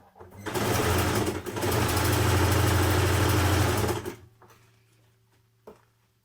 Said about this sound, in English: you're going to sew down your side seam of your sleeve and your sleeve cuff